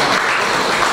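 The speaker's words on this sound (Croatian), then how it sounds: "Molim jedan veliki aplauz za" A crowd at an art exhibition opening applauds the artists, a dense, steady wash of clapping that fills the whole moment without a break.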